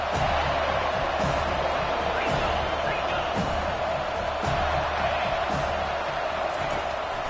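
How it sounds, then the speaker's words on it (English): A football stadium crowd roars steadily on third down in a Washington at Florida State game, a dense, loud, continuous wall of cheering and noise with a commentator talking over it. "Decibels rising as the crowd gets behind this defense on third down."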